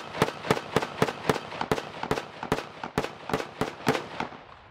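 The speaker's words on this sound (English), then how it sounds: "we're beginning to hear rebel soldiers beginning to fire back" Rebel soldiers fire back during political unrest in Russia, a steady run of about a dozen separate gunshots spaced evenly and heard from a moderate distance, with no voices.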